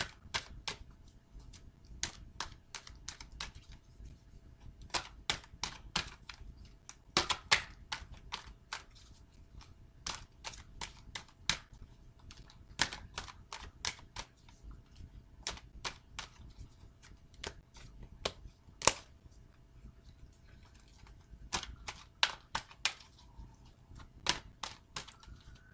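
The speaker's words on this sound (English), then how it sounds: "now I'm going to take the time to shuffle my Wisdom Oracle cards" Someone shuffles a deck of Wisdom Oracle cards with quiet, irregular clicks and flutters that come in short bursts and pauses, faint and close against a hushed room.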